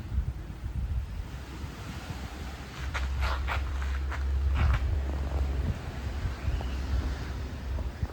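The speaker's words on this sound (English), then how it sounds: "All right, so here's the beach." Waves wash onto a beach in Malaysia as a steady, broad surf roar that swells slightly in the middle, with gusts of wind buffeting the microphone and no voices.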